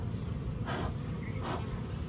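Bees buzz around a beehive in a steady, close-up insect drone, with a couple of soft, breathy noise bursts rising briefly over the hum.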